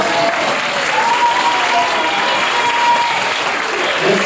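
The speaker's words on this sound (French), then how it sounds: "Alors on applaudit bien fort le président." Audience applause for the president at a New Year's greeting event, a dense steady clapping crowd sustained loud throughout.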